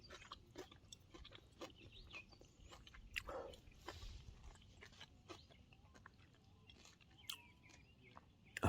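Close, crunchy chewing of smoked salmon skin with irregular bites and crackles, fairly quiet, with faint background noise and no talking.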